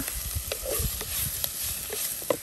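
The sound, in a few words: dry shark frying in a pan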